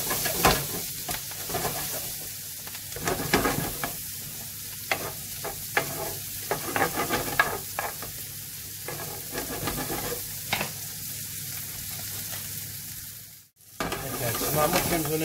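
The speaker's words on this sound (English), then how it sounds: "Got our onions starting to cook down really nicely there." Onions sizzle steadily in a pan, cooking down beside bacon and mushrooms, while a utensil scrapes and taps through them in uneven strokes. A brief near-silence comes just before the frying resumes.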